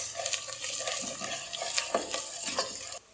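Spiced chickpea mixture for chole, seasoned with salt and red chilli powder, stirred in a pan with a spoon, giving steady scraping and soft sizzling strokes up close, with no talk.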